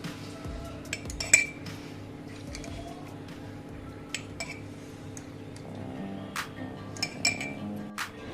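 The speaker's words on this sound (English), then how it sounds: "We slowly drop in the pickle into the bottle." Mango pickle pieces drop into a glass bottle with scattered soft clinks and wet squishes, a few sharper taps of a spoon against glass standing out over a low background hum.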